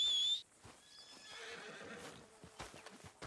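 Horse in the video game Red Dead Redemption 2 gives a sharp, loud whinny, followed by hooves clip-clopping at a steady gait over ambient game sound.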